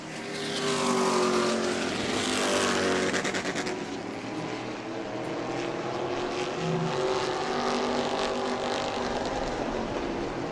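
E-Mod race cars roaring around a short oval track, a loud pack of engines swelling past and then fading into a more distant drone.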